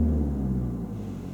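A learner's car engine idles with a gentle touch of throttle during a driving lesson, a steady low hum fading slightly, with no talk.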